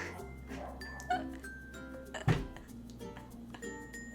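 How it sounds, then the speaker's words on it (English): Three small dogs in the upstairs apartment yip and bark in short, scattered bursts, muffled through the ceiling, with a sharp clink and faint talk nearby. "My upstairs neighbors has 3 little dogs. They like to bark a lot."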